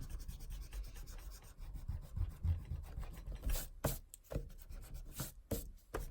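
An eraser is rubbed over an ink drawing on paper, producing soft, close scratchy strokes that come in short repeated bursts, quiet, with no talking.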